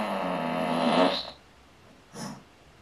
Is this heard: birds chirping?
no